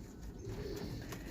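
A pigeon coos softly and close by, a low murmuring call lasting through the short moment, with no talk.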